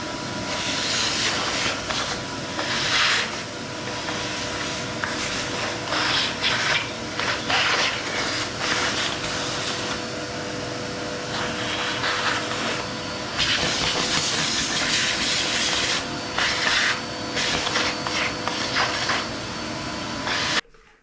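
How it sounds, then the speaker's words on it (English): A vacuum cleaner sucks up dust during disassembly work on a BMW K100 motorcycle, a steady, loud hissing roar running unbroken for about twenty seconds before cutting off abruptly. "Time to suck up the dust."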